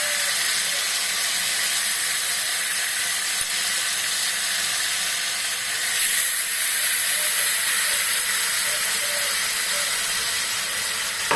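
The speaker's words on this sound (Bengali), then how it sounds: "এখন এক পিঠ একটু ভাজা হোক, তারপরে ওই পিঠটা আমি উল্টে দিব।" Hilsa fish frying in hot oil gives a steady, bright sizzling hiss that fills the whole stretch, close and fairly constant, swelling slightly partway through.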